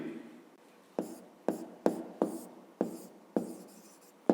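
A pen writing numbers by hand for a fifth-grade maths exercise, seven or eight sharp scratchy strokes in a fairly regular rhythm, close and clear with quiet pauses between.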